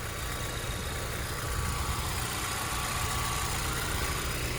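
A 2007 Honda S2000 with a VTEC dual overhead cam engine idles at a steady, even drone, heard from the open engine bay with the hood up and no voices over it.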